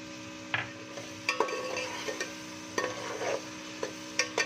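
Seven or eight slit green chillies go into a pot of jeera rice: scattered light clinks, taps and rustles of stirring over a faint steady sizzle, with no voices.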